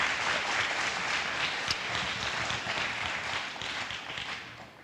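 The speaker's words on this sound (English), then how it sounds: "Can we have a round of applause for him?" An audience at a high school event claps steadily for a recognized guest, a soft, even wash of applause from a moderate distance that gradually tapers off.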